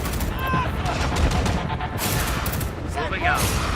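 Units opening fire in the military strategy game Tom Clancy's EndWar: rapid bursts of gunfire and fusillades, loud and close, with radio-style voices talking over the shooting.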